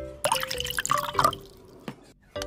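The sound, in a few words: water being poured for turmeric and hand wash experiment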